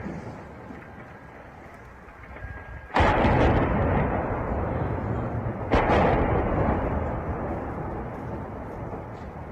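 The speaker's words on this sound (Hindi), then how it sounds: "यूक्रेन के होस्टोमेल में कई धमाकों की आवाजें सुनाई दे रही हैं" Heavy explosions from missile attacks in Hostomel, Ukraine: two loud, deep blasts a few seconds apart, each followed by a long rumbling roar that lingers, over a low background rumble.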